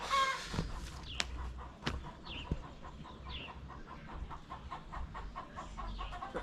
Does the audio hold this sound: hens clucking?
yes